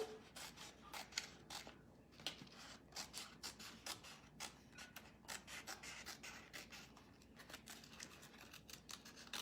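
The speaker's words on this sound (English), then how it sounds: "But I'm just gonna cut it out all now." Scissors snip steadily around a decal transfer for a jar, a quick close series of crisp cuts and paper rustles, fairly quiet with no voices.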